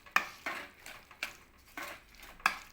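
A spoon scrapes and clinks against a pot while lemon chutney is stirred, giving soft, irregular metallic taps and scrapes, quiet and close, with no talking.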